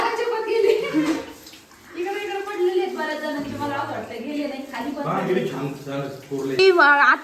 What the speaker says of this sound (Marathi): वरच्या खडकातून झिरपून झिरपून पाणी तळघरामध्ये येत आहे